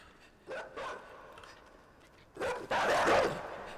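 In the game Inside, a dog lets out two short barks, a brief pause, then a louder, longer pair of barks close by, over a quiet background.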